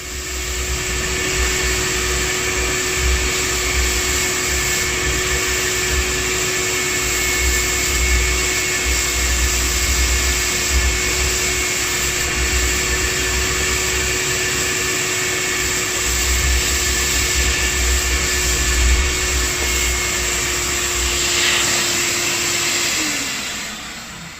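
A vacuum cleaner runs continuously as it sucks sand out of a large pool sand filter, a loud, steady whine and roar with uneven rattling and gritty surges. Its motor pitch drops as it winds down at the end.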